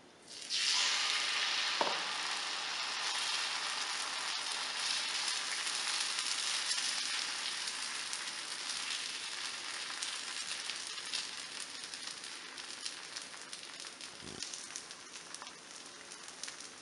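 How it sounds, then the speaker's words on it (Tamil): Wheat adai dosa batter sizzles and fries on a hot griddle, a loud, close, continuous crackling hiss that slowly eases over the clip, with a couple of faint knocks and no talking. "இப்போ தோசை நம்ம சுடலாம்."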